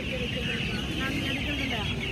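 Chickens, ducks, guinea fowl and turkeys at a poultry shop keep up a steady, dense clucking and squawking throughout, with a constant mix of nearby noise.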